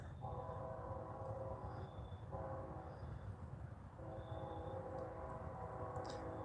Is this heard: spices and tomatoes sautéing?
no